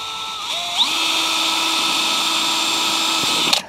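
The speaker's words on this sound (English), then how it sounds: "Let's drill one hole here." A power drill whirs up to a steady high-pitched whine while drilling a hole in a CIGS thin-film flexible solar panel, holds for about three seconds, then stops with a brief clunk.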